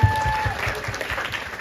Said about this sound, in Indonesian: Tepuk tangan untuk kakak kita.